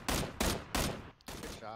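Gunshots in the PUBG battle royale game, three heavy evenly spaced bursts followed by a quieter fourth, close and loud with no talk over them.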